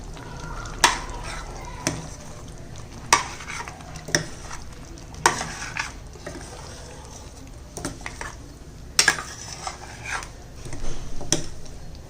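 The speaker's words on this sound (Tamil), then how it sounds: "இப்போ இதையும் இந்த சிக்கனில் ஊற்றிக்கிறோம். இதை கிளறி விட்டுக்கோங்க." A spoon stirs chicken gravy mixed with a paste of cashew, almond and yogurt in a pot, scraping and tapping the metal every second or so over a steady soft sizzle. The sound is close and no one talks.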